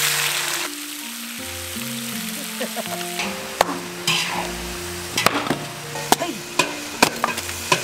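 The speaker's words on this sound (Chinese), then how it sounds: "土鸡进锅" Free-range chicken hitting a hot oiled wok with ginger, a bright sizzle opening loud, then spatula clacks and stirring scrapes, with background music tones running underneath.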